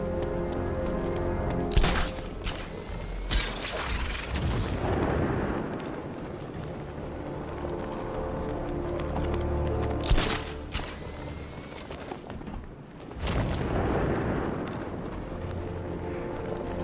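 Batmobile 60mm cannon fire in the Batman Arkham Knight video game, with sharp heavy blasts at intervals, each followed by rumbling explosions and debris over continuous loud action noise, without talk.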